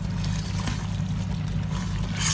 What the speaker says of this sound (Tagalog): naglagay na siya ng tubig. Like 2 glass of water.